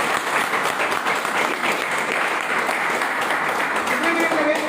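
Loud, dense clapping from an audience at a business training session, continuous and even throughout the short stretch with no pauses.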